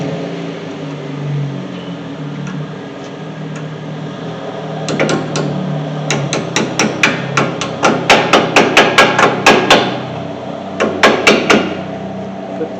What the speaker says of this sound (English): You hammer the top on, you hammer the bottom on.